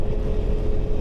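KTM 390 Adventure R motorcycle engine running at a steady, loud, low drone, heavy in the bass with a constant tone and some wind rush throughout.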